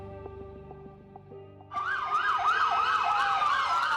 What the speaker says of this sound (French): les sirènes résonnent